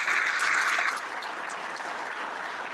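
Audience at a kayak fishing tournament awards event in Plymouth, Indiana applauding the volunteers, a dense steady wash of many hands clapping, louder at first and then settling into sustained, fairly close applause.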